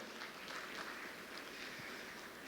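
Audience applause for DSCI at the AISS 2023 conference keynote, a steady, faint wash of many hands clapping from a distant crowd, continuous throughout without any talk.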